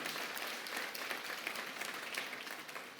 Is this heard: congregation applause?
yes